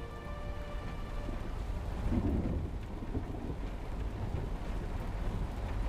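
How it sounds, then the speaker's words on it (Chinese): Steady rain pours outside with a low rumble of thunder swelling around the middle, a continuous wet wash with no voices. "外面又下雨了。"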